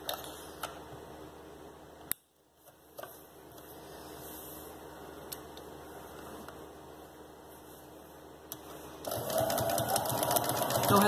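A sewing machine stitches a small baby shoe with a half-presser-foot seam allowance, running steadily and close with a brief pause and a busier burst near the end.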